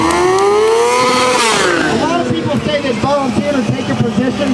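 A freestyle trick motorcycle engine revs loudly nearby, its pitch climbing and then falling before settling into a rough, fluttering idle with uneven throttle blips, under crowd noise.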